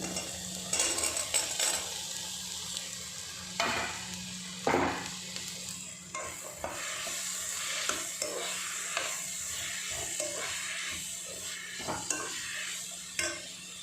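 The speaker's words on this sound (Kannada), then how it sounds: "ನೋಡಿ ಗೈಸ್, ತರಕಾರಿ ಹಾಕ್ತಾಯಿದ್ದೀನಿ." Vegetables sizzle and fry in a pan while a utensil stirs and scrapes against the metal, with steady frying hiss and intermittent clinks throughout, no talking.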